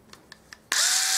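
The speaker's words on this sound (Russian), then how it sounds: "Откручиваем." A handheld power screwdriver whirs loudly and steadily while unscrewing a screw from a Beluga YH 7000 baitrunner fishing reel, after three short faint clicks.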